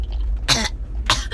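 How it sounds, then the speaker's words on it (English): Two short, harsh coughs about half a second apart, close and fairly loud over a low background hum. "can you not cough on me?"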